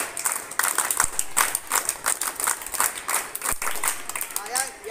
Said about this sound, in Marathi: टाळ्या वाजवून स्वागत घेऊया सगळ्यांनी